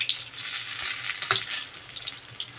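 Potato-stuffed green chillies frying in an oil-filled pan give a steady close sizzle, with a few soft scrapes as they are turned over and no talk.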